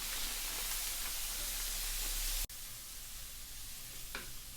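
Mixed vegetables frying in butter and garlic in a pan for fried rice, a steady soft sizzle that drops suddenly to a quieter hiss partway through.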